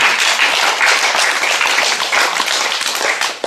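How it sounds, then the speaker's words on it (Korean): A lecture audience applauds loudly and steadily, dense clapping filling the whole stretch before tapering slightly at the end. "우리 큰 박수 한번 격려해 주세요"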